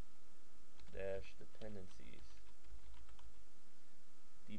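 Quick keystrokes on a computer keyboard as a command is typed: a close, clicky burst of taps followed by a few scattered presses, quiet against a faint steady hum.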